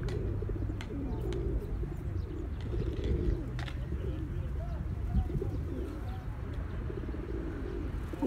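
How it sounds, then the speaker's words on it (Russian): Pigeons cooing outdoors, soft low rhythmic coos repeating under steady background noise, with faint chirps of other birds. "Смотрит на меня, воркует."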